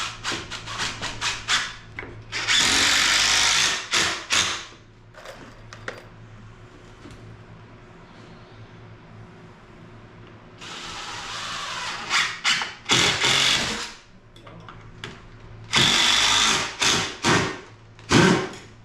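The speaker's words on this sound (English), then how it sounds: "Matthew's going to put 2 screws in it just to hold it together" A drill drives exterior deck screws into wooden Adirondack chair parts in a workshop, with two separate bursts of high whirring, then quieter handling sounds, then two more bursts of drilling near the end.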